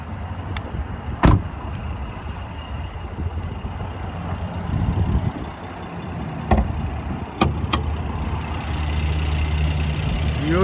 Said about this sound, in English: This is a twin turbo V6.